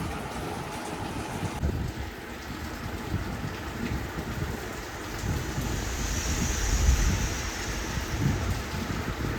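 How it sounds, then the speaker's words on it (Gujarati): Heavy rain pours steadily outside a shop during a dark afternoon downpour, a dense, continuous hiss with occasional low rumbles that swells slightly toward the end, with no voices. "વધતો જ જાય છે વરસાદ તો."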